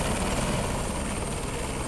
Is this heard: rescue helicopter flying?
yes